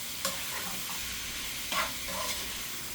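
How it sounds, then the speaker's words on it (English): Meat seasoned with adobo being stirred in a pot for rice and gandules soup, a quiet steady sizzle with a few brief scraping stir strokes. "So now we stir this up."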